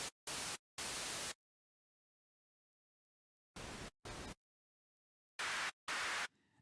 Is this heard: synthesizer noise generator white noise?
yes